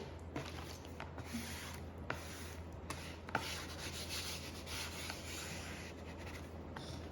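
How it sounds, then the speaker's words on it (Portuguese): Hand smoothing an adhesive liner onto a handmade notebook cover, a soft continuous rubbing swish close up and quiet, with a few faint taps and crackles. "agora eu venho puxando devagar aqui o liner por trás e vou passando a mão mesmo"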